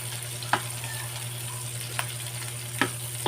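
Pork sautés in a pan for ginataang mangga, giving a constant close sizzle with a low hum underneath and three or four sharp clinks of stirring, no talk.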